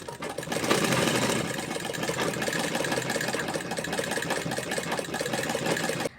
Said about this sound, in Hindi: हमने सिलाई लगा दिया।